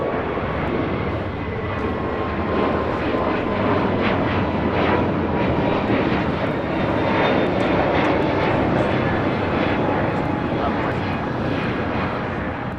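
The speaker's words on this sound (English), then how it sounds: "This is Understood the Assignment, taking off to JFK. JetBlue Airways 1524, an A321neo." A JetBlue Airbus A321neo taking off from LAX bound for JFK, a loud sustained jet engine roar that holds steady throughout, close and powerful, with no speech.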